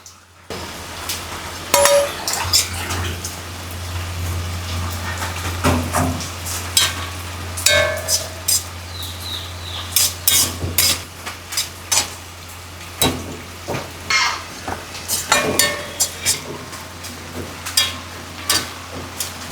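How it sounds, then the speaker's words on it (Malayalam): Grated coconut roasting in a hot clay pan, stirred with repeated scraping and rattling strokes over a dry sizzle, close and fairly loud with no talk. "ചട്ടി ചൂടായിട്ട് ഉണ്ടല്ലോ തേങ്ങ വറുത്തെടുക്കണം"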